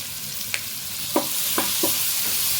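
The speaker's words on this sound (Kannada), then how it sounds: "ಚೆನ್ನಾಗಿ ಫ್ರೈ ಆಗಲಿ. ಆನಿಯನ್ ಫುಲ್ಲು ಸ್ವಲ್ಪ ಲೈಟ್ ಬ್ರೌನ್ ಬರಬೇಕು" Onion and curry leaves frying in a pan, a constant bright hiss of sizzling oil with a few brief scrapes and taps from stirring, steady and close, with no speech.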